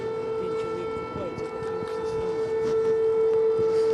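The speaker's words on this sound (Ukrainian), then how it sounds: "Під звук повітряно повітряної тривоги занурюється у холодну воду і пан Микола" A steady, droning air raid siren wails continuously in the distance in Ukraine, holding a constant pitch, with faint background activity and murmuring beneath it.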